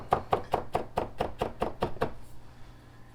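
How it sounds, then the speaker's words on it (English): A knife finely mincing garlic on a cutting board, about ten crisp, evenly spaced chops in quick rhythm, close and clear, then stopping into quiet. "So I've got the garlic nice and finely minced."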